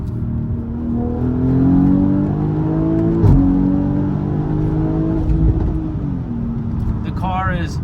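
A BMW X3 M40i in sport mode accelerates hard from inside the cabin, engine note climbing steadily through the revs with a gear shift partway and a loud sustained roar; a voice speaks briefly near the end.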